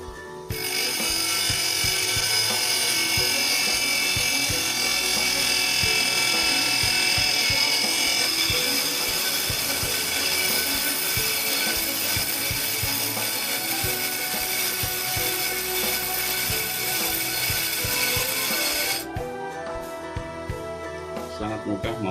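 A bench grinder with a diamond wheel cuts through a metal rod with a high, harsh whine, continuous for about nineteen seconds, loud and steady, then stops and leaves a quieter hum.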